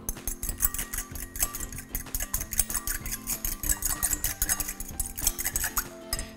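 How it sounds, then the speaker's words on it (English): An egg is whisked quickly in a bowl by a chef in a cooking class, giving rapid, steady rhythmic clinking and tapping of the whisk against the bowl throughout. "I wanna just give it a quick whisk"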